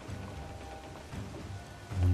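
Rain falls in the video game Assassin's Creed 4 Black Flag as a steady, soft, diffuse patter with no talking, and a low rumble swells at the very end.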